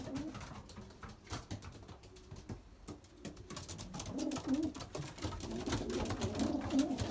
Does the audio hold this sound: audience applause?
no